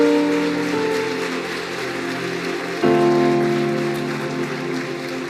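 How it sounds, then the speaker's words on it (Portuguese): A church congregation claps in praise for Jesus, a steady wash of hand-claps with musical tones beneath that swells louder partway through. "Quem pode dar um louvor de palmas para Jesus, por favor?"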